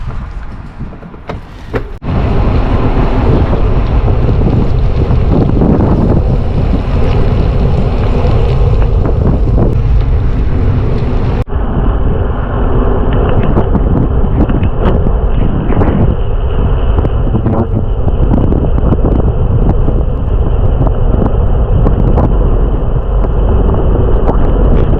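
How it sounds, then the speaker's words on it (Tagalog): Strong stormy wind buffeting the microphone on a Saturday morning winter bike ride, a loud, continuous roaring rumble that stays close and unbroken throughout, with a sharp shift in tone partway through. "may bagyo, malakas yung hangin"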